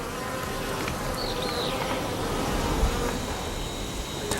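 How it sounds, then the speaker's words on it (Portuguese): Dense, continuous buzzing of many bees swarming around their hive, a steady drone filling the space with a louder insect passing briefly. "As abelhas laranja logo saem da colmeia."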